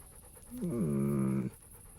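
A dog pants steadily and rhythmically for about a second in the medieval video game Kingdom Come: Deliverance, close and fairly quiet, with no talking over it.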